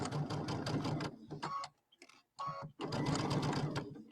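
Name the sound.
sewing machine sewing a quarter-inch seam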